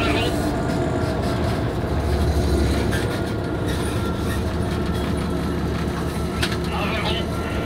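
From inside the cab, a Class 66 diesel freight locomotive rolls between Sotteville and Rouen Martainville with a constant heavy rumble and rail noise, while a person speaks over it.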